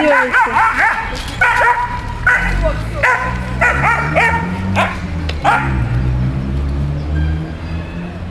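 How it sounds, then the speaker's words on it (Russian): Dogs on a street bark in a rapid series of loud, sharp, close yaps and woofs, with yips and whimpers mixed in, over low rumbling background noise with some voices. "Собачка идет."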